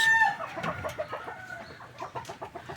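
Chickens and fighting roosters on a small farm, with a close crow at the start followed by rapid clucking calls in a steady run, with no talking.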